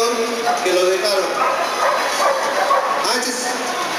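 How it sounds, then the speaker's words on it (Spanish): A female protection dog barks and yelps sharply during front attack training, loud, repeated and close, mixed with people talking and shouting commands. "Como pueden ver, el perro es una perra muy ágil."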